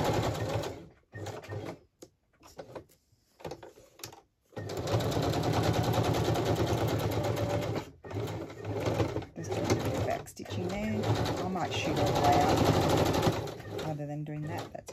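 A sewing machine stitches down pages of a paper envelope journal, whirring in long steady runs, close and loud, broken by short pauses and a few stuttering starts; a person talks briefly in the quieter opening stretch.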